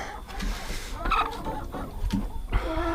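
A flock of laying hens clucks and squawks nearby at feeding time, with irregular overlapping calls and faint barnyard rustling.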